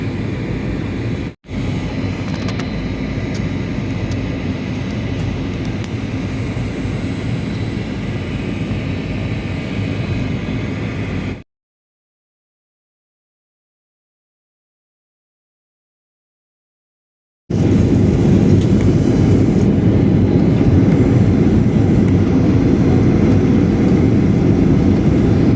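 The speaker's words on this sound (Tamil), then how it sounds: "இன்னும் கொஞ்ச நேரத்தில் இறங்க போகுது ஃப்ளைட்டு" A Malaysia Airlines jet drones steadily from inside the cabin as it comes in to land, a loud broad roar that breaks off into a long stretch of silence before resuming.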